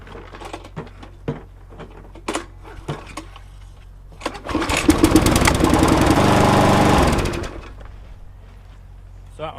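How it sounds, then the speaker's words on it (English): A small Briggs engine on a lawn mower that is missing a wheel gets pulled over, catches and runs loudly for a few seconds with a steady chugging roar, then cuts out. Clanks and handling knocks come before it starts. "Let me just fire this little Briggs up."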